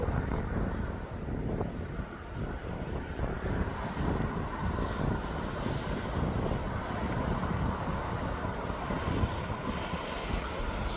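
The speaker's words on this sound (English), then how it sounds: "as that Ryanair is now climbing out of East Midlands" A Ryanair airliner bound for Dublin climbs out after takeoff from East Midlands Airport, its steady broadband engine roar sustained and fairly distant throughout, with no other sounds standing out.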